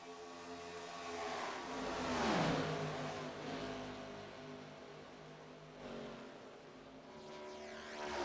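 Race car engines in a Gen 4 stock car racing video game at Daytona, a continuous droning roar that swells and fades as cars sweep past in packs, with no voices.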